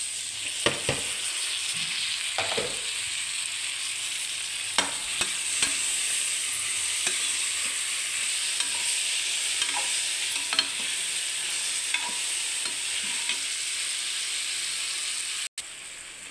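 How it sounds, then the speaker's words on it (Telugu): Tomatoes are stirred into a frying pan for a vegetable pulao, giving a steady close sizzle with repeated scraping strokes of a spoon, no talk. "టమాటా వేసుకుంటున్నాం."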